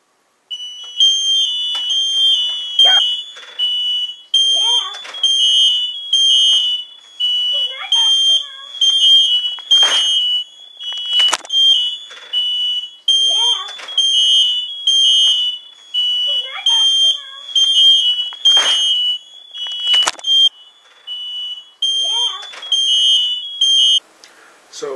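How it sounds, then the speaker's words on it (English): A smoke alarm shrieks in repeated loud high-pitched beeps during a home fire drill, steady rhythm throughout, with voices and movement heard between the beeps. "He knows that the smoke detector is going to go off."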